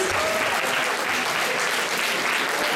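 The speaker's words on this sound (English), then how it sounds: "A big clapping for him" An audience at a singing competition claps steadily and loudly, a dense continuous applause filling the whole short stretch.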